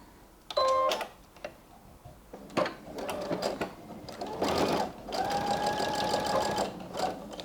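A sewing machine stitches a key ring onto a fabric tote bag. After a few brief clicks and short runs, it settles into a longer, steady whirring stitch, heard close by.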